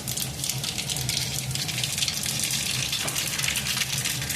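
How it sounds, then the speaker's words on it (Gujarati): Mustard seeds, cumin and a pinch of asafoetida crackle and sizzle steadily in hot oil, a dense continuous frying hiss with no voices. "તો આપણું તેલ આવી ગયું છે તો તેની અંદર આપણે રાઈ જીરું થોડી હિંગ નાખીશું"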